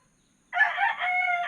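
An SBR rooster crows loudly and close by, one long strained call that starts abruptly after a brief silence.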